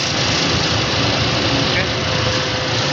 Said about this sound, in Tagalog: umikot lang kanyang clutch, magnetic clutch coil